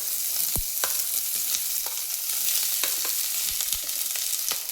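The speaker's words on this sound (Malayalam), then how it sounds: "ഇതാ നമ്മുടെ സവോള നമ്മൾ വെളിച്ചെണ്ണയിലേക്ക് കൊടുക്കാം" Sliced onion sizzles and crackles in hot coconut oil, a dense continuous frying hiss dotted with sharp pops and spatters, close and without talk.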